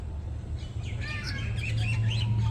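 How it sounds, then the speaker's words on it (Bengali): Several birds chirp and tweet in a village at dusk, bright short calls overlapping above a low steady background hum, moderately close. "দেখো পাখিগুলা"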